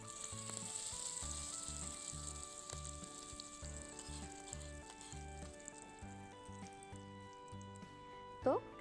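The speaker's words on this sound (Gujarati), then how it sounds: "વઘાર રેડી દઈશું" Hot oil tempering with whole red chilli and curry leaves sizzles steadily throughout, partly masked by loud rhythmic background music, with a brief louder crackle near the end.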